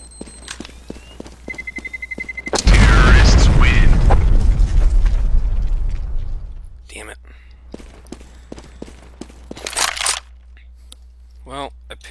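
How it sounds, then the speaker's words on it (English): A bomb detonates in a CS:GO competitive match as one loud, close blast that booms and rumbles for several seconds, followed by clicks, footsteps and brief game noises. "That bomb's gonna blow and I don't have a defusal in the kit"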